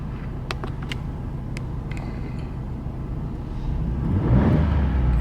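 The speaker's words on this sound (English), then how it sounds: "I'm going to try to accelerate it again" A Ford F150 XLT engine being accelerated during a test drive while checking an engine-hesitation fault, a steady cabin drone that swells louder toward the end as the revs build, with no one talking.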